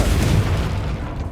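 A Confringo blasting spell detonates in Hogwarts Legacy, a loud, close booming burst with a rumbling tail that fades over a second and a half, no talking.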